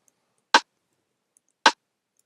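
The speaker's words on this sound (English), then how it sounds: "The next sound we have here is this rim shot." Rim shot drum sample with its low and low-mid frequencies cut: two sharp, identical dry cracks about a second apart, each a brief bright snap that drops straight back to silence.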